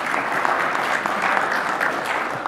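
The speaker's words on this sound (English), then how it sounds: "Please clap." A conference audience at a software talk claps briefly and steadily, a dense patter of hands with no voices over it.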